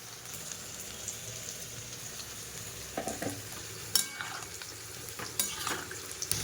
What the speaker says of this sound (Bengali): তো চিংড়ি মাছ ভাজা হয়ে গেছে, ওর ভিতরে দিয়ে দিলাম নারকেলের দুধ আর লঙ্কা বাটা।